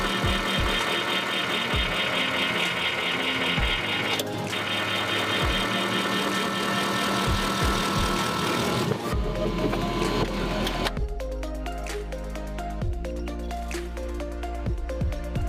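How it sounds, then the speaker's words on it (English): A hydraulic press slowly crushes a bolt, giving a steady mechanical drone with repeated rhythmic thumps and an abrupt shift in tone partway through, with no voices. "I put a bolt under the hydraulic pressure."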